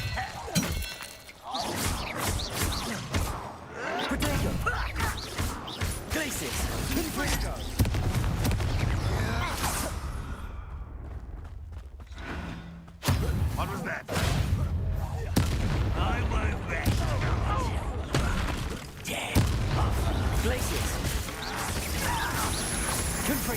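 Spell-casting combat in Hogwarts Legacy fills the scene with booming blasts, crackling bursts and impacts, loud and nearly continuous with a brief lull midway, while character voices shout over the fighting.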